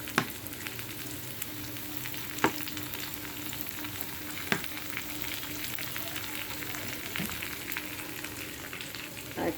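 Soybean chunks frying in a pan with tomato sauce just added, giving a constant hiss of sizzling oil punctuated by occasional clacks of a spatula, no voices.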